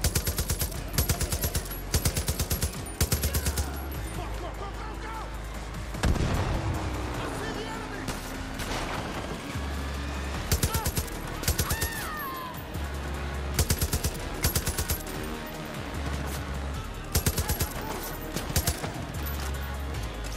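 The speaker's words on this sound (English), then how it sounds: "Do we have a mounted turret?" Mounted turret machine gun fire in the video game Far Cry: New Dawn comes in rapid, loud bursts separated by short pauses, with game sounds and a voice talking between the volleys.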